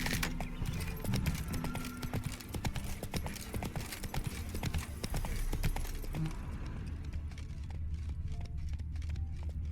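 Roach, a horse in The Witcher 3 video game, gallops with steady rapid clip-clop hoofbeats over a busy rumbling game soundscape, the hooves growing sparser and quieter in the final seconds.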